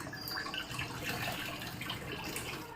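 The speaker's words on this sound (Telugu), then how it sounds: "ఇప్పుడు ఈ వాటర్ని తీసేసేయాలి" Water poured off salted, washed ridge gourd pieces in a kitchen, a steady close splashing and trickling stream that runs evenly throughout with no talk.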